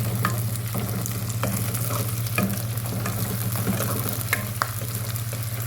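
Curry leaves and dried red chillies fry in hot oil with a steady crackling sizzle, close by, broken by occasional sharp pops and faint stirring clicks, and no voices throughout.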